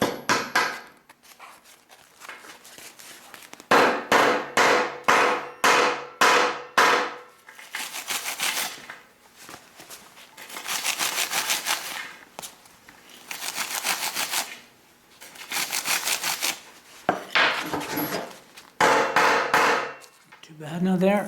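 Repeated sharp hammer blows knock glassy slag off a smelted lead button, coming in irregular bursts of quick strikes with brief pauses between them, close and loud.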